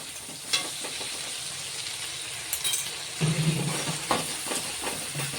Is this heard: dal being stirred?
yes